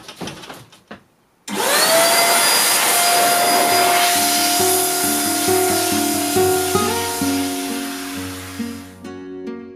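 An electric blower roars on abruptly and runs loud and continuous while cleaning dust out of computer parts, its pitch wavering and stepping before it cuts off.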